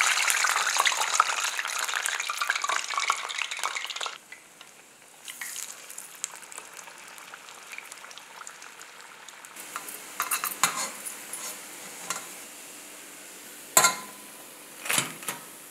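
Murungai keerai vadai fry crisply in hot oil, a busy sizzling crackle that rises and falls with scraping spatula and utensil clinks, and a few sharp knocks near the end.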